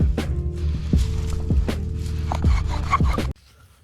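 Rhythmic back-and-forth grinding of a bow drill spinning against wood, with regular strokes about every half second, close and continuous, then stopping suddenly.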